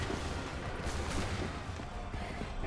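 Musket volley fire in Assassin's Creed III, a dense, continuous crackle of many guns firing together at a distance, heard as a steady wash of noise with no clear single shots.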